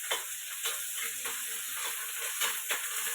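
Puffed rice being tempered in hot oil with green chillies and curry leaves for chivda, producing a steady close sizzle and hiss with soft crackles and occasional stirring scrapes throughout.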